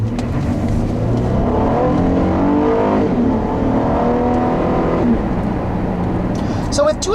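A 2014 Acura TL's 3.5-liter V6 accelerates smoothly from inside the car, a steady rising engine hum with layered harmonics that climbs through gears, loud and continuous, with faint clicks near the end.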